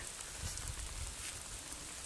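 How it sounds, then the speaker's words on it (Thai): Steady rain patters on a tent pitched under a tarp in an abandoned hut beside a reservoir, a faint, even hiss of drops with no voices. "เสียงฝนกระทบเต็นท์"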